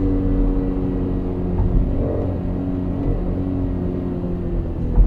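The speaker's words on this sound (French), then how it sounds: "Qu'est-ce qu'il est bruyant ce moteur," A 2023 Ford Fiesta 7 engine drones steadily and evenly under a floored pedal, heard from inside the car at moderate level, with no voices over it.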